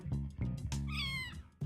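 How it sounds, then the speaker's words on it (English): A cat in a video game meows once in a drawn-out, rising-and-falling call, close and clear over a low rumbling background, with short soft sounds before and after. "Come here, kitty."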